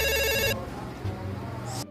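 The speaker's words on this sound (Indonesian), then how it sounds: "Telepon dari Mbak Google." A telephone rings with an incoming call, a bright repeating ring tone for about half a second, then a classroom sound follows with mixed tones and a voice, ending in a short chime.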